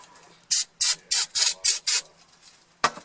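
Brake cleaner sprayed onto the friction wheel of a Craftsman snow blower: six short, sharp hissing bursts in quick succession, then one more after a pause, close and loud.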